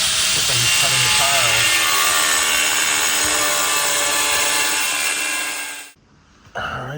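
A power tool cutting tile during a home remodel, a loud sustained high-pitched whine grinding on for about six seconds before abruptly stopping, with nearby talking in the background.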